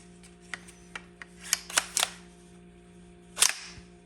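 Light metallic clicks and snaps from the action of a GSG-16 .22 LR rifle being worked, several sharp separate clacks close by, the loudest near the end, with no talking.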